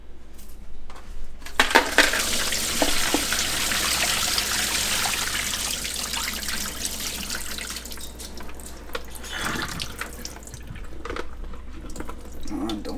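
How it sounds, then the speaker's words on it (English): Soaked potato fries are strained out of ice-cold water in a kitchen sink, a steady loud rush of pouring water with light clatter of a bowl or strainer, easing into quieter splashes and drips toward the end. "So what you're just going to want is to strain out your fries."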